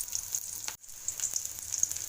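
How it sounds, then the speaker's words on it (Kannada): Chopped onions fry in a pan with a steady, bright sizzle and crackle. It drops out for an instant, then resumes, close up and with no talking. "ಹಸಿ ವಾಸನೆ ಹೋಗೋವರೆಗೂ ಹುರ್ಕೋಬೇಕು ಅದನ್ನು, ಈರುಳ್ಳಿನ"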